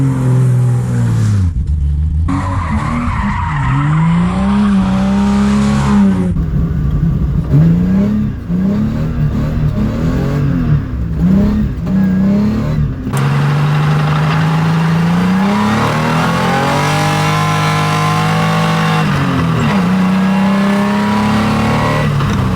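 A rare BMW E30 325iX converted from all-wheel to rear-wheel drive revs hard while drifting, its loud, close engine rising and falling continuously over sustained tire squeal.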